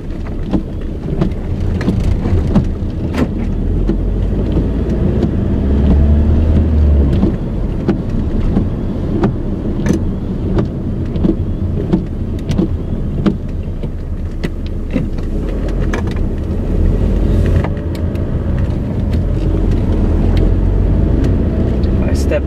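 Volkswagen TDI car engine at full throttle with a loss-of-power fault and non-working turbo, a steady low drone with road and wind rumble throughout, someone talking over it.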